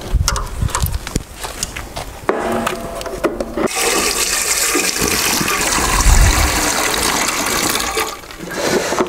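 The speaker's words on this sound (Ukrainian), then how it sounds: "Зараз будемо заливати в парогенератор воду." Water is poured from a container into the steam generator of a centrifuge beeswax melter, a steady gushing, splashing fill lasting several seconds, close and fairly loud, with no talk over it.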